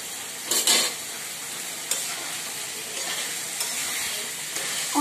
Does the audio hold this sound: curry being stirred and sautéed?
yes